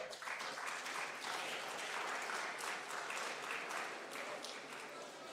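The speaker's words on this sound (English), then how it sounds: "Another applause for our big brothers." Steady applause from the delegates at an international conference hall, a continuous wash of clapping at moderate distance with no talk on top.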